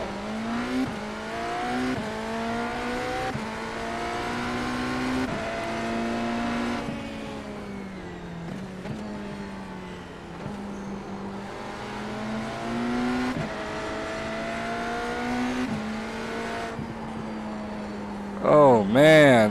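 A hypercar engine at Catalunya in a racing video game wails loudly and continuously, rising and falling in pitch through gear changes and corners over nearly twenty seconds, with a sharp burst at the end.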